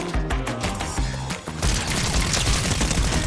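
Rapid bursts of SMG fire in Fortnite, dense and loud, running almost continuously with a brief dip before an even busier stretch of shots.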